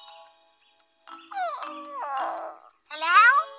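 A cartoon puppy whimpers and whines in a series of high, wavering cries broken by short pauses, fairly close and clear with no talk over it.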